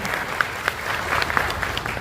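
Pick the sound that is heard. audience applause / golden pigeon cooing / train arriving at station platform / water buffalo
audience applause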